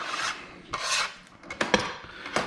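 A metal scraper rasps across a pan, pushing food for clams casino together in several short scrapes, close and fairly quiet.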